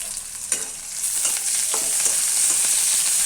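Sliced onions fry in a pan for an eggplant curry, a steady sizzle with repeated spatula stirs and scrapes close by, no talking.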